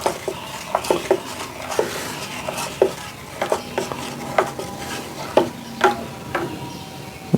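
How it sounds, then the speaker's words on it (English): Banana being stirred into a banana cream moonshine mixture, with a steady series of close, sharp clinks and taps of a spoon against the container, repeating roughly every half second. "Okay, so we want to add the banana in that. Give that a stir."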